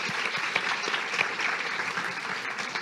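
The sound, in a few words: audience applause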